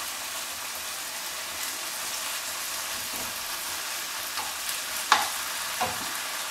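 Bolognese mince browns in a hot pan, giving a continuous loud sizzle with a few sharper pops and clicks of stirring near the end.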